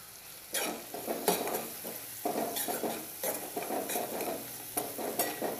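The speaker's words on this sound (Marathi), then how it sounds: "व्यवस्थित आपण हे परतवून घेणार आहोत." Moth beans stir-fried in a pan sizzle softly and steadily, with repeated scraping strokes of a spatula stirring them in a quick, uneven rhythm, close and alone without talk.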